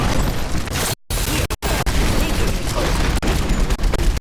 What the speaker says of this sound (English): Dr. Junkenstein lobbed his bombs at the castle. The explosions a percussive complement to the sound of his laughter.